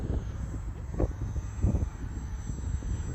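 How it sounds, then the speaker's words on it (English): A Hobbyzone Aeroscout RC plane propeller at partial throttle buzzes faintly and steadily in outdoor air, with a few soft surges and wind noise, no talking. "1/3 to half throttle. And it's just barely moving."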